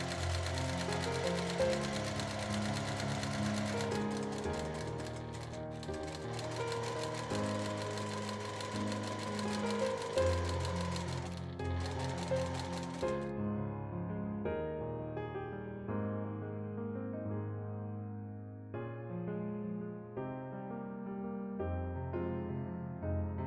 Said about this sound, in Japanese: 型紙の線を引いたらその上を縫っていきます。